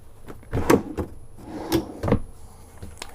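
Wooden drawers in a Volante 3601LF fifth wheel RV sliding open and shut several times, with soft thuds and scraping, close by in a quiet room.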